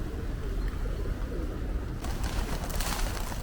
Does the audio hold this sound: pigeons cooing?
yes